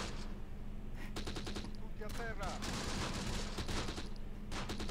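Gunfire in the World War II strategy game Close Combat with Italian commandos: bursts of rifle and machine-gun shots, some distant and some nearer, crackling through steady battlefield noise, with a rapid volley near the end.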